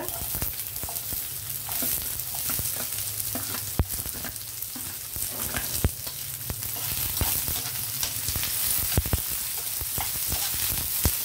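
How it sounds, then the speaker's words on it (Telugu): Onions sizzling and frying with lentils in a pan for a Telugu pappu charu, a steady loud crackle throughout with occasional sharp stirring clicks of a spoon against the pan. "పప్పులు కొద్దిగా వేగాకప్పుడు మనం ఉల్లిపాయలు వేద్దాం, వేగనిద్దాం"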